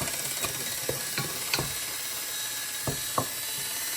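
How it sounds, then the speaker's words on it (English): Ground turkey with minced onion and garlic powder browns in a pan, giving a steady close sizzle under scattered scrapes and clicks of a utensil stirring and breaking up the meat, with no voices. "Brown up this ground turkey."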